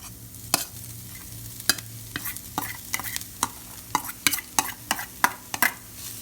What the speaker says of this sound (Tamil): இப்போ எல்லாத்தையும் சேர்த்து நல்லா வதக்கிக்கோங்க.